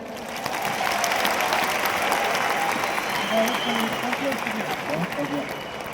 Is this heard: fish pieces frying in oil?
no